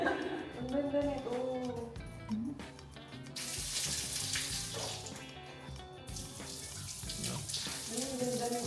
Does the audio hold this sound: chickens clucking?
no